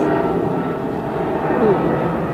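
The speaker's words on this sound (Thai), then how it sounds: "เครื่องบินมาอีกแล้ว" An airplane flies overhead outdoors near a house garden, a continuous broad roar that swells slightly and fills the whole stretch, with no talk heard.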